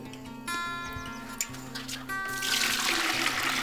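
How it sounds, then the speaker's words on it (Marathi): About seven to eight litres of water pour into a large cooking pot for boiling potato chips, a close, loud stream that fills and rises in tone, with light metallic knocks and no talking. "आता या पातेल्यामध्ये मी जवळपास 7 ते 8 लिटर पाणी टाकून घेणार आहे"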